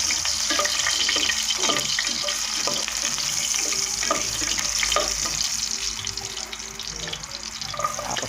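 Ginger fries in a pan on a lowered flame, a loud continuous sizzle with occasional crackles and light stirring taps; no talking.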